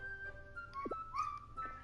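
A short dog bark from the farming video game Harvest Moon: Light of Hope, a quick double yelp over a soft in-game music bed with tonal chimes, faint and brief.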